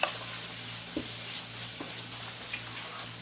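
Carrot barfi mixture roasting in ghee in a pan, a steady soft sizzle with a few light scrapes of the spoon as it is stirred, close and fairly quiet, no voices.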